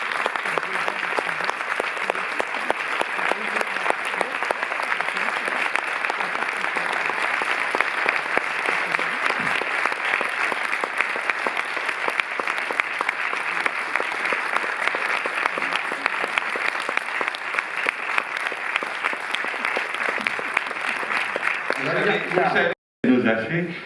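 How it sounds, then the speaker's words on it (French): An audience gives a long, sustained ovation in a cinema hall, dense clapping that continues unbroken for over twenty seconds and fills the room. "Je voudrais qu'on fasse une ovation à Sylvain Baudron."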